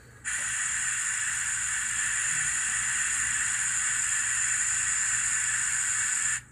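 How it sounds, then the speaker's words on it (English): A loud, steady hiss of steam venting from a model steam locomotive continuously for several seconds, starting abruptly and cutting off at the end. "And here's the steam let out."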